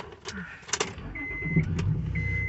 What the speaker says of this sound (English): I'm just going to turn on my car.